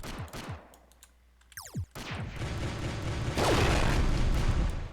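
Turrets on a retro Hawklight ship fire in the Roblox game Galaxy, a fast rattling volley followed by a sustained roar of heavy shooting that swells louder toward the end.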